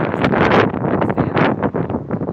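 Gusty wind blows outdoors at a busy gathering, buffeting the microphone with loud, continuous rumbling that rises and falls in surges throughout.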